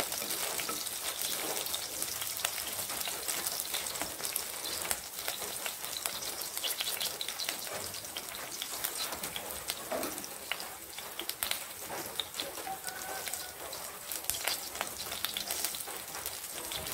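Onion frying in a pan for Bicol Express, a continuous soft sizzle and crackle with faint scattered pops, steady and fairly quiet throughout with no talking.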